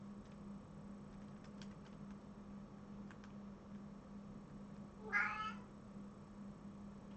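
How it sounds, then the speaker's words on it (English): A house cat lets out a single loud, drawn-out meow partway through, rising clearly over a quiet room with a steady low hum in the background. "My cat is yelling. I heard the cat there."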